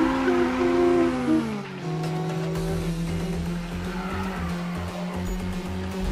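A car drifting in the Need for Speed racing game, tires squealing in long wavering screeches over a droning engine whose pitch drops and settles, loud and close, with no talk.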